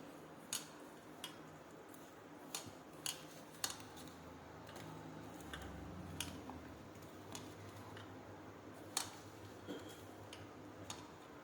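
Fried chickpeas being stirred together with gram flour: irregular light clinks of a spoon against a bowl, quiet and close, spaced through the mixing.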